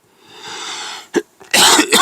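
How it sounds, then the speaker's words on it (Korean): A teacher coughs several times: a faint breathy onset, one short sharp cough, then a loud harsh burst of coughing, close and alone without speech. "쌤이 기침을 좀 나서, 장기침을 나서"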